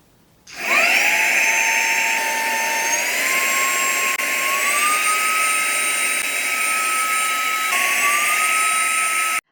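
A small handheld vacuum whines loudly and steadily while pulling lint out of a serger, its high motor tone switching on sharply and slowly rising in pitch before cutting off.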